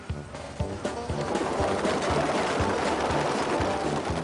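Racing pigeons coo steadily in a loft, several birds overlapping in a dense, rhythmic murmur of low pulsing coos with scattered rustling, loud and close with no talk.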